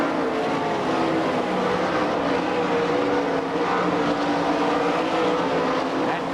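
Sprint race cars howl around a dirt track at the All Star Circuit of Champions in Franklin, PA, a dense, steady engine roar from several cars with no talk over it.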